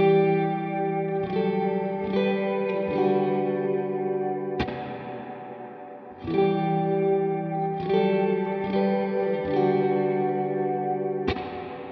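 A guitar played through a Source Audio Ventris Dual Reverb pedal on its room setting: sustained, ringing chords struck every second or two, each tail blooming with a short, even ambience and no talk.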